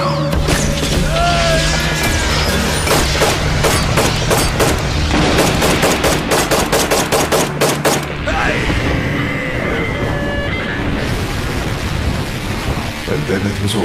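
Dense bursts of rapid gunfire crackle over a loud, chaotic mix of crashes and booming impacts and magic in a street, with sharp repeated shots clustering in the middle.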